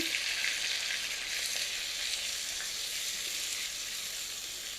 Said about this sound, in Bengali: আমি পেঁয়াজ আদা রসুনটাকে প্রায় পাঁচ থেকে ছয় মিনিট কষিয়ে নিলাম